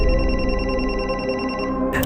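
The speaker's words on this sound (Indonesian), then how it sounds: "Suara ponsel itu dari balik lemari." A mobile phone ringtone sounds from behind a wardrobe, playing continuously with a steady repeating electronic tone pattern, close and fairly loud, cutting off near the end.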